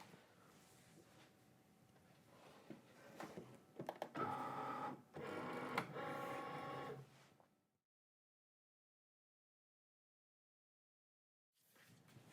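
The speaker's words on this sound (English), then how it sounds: "I'm just going to let it cut as is, and then we'll load it in the machine and be good to go." Cricut cutting machine cutting printable vinyl on a mat for a 3D cassette tape craft, a close mechanical whirring and clattering of carriage moves in bursts, then silence before a faint sound resumes at the end.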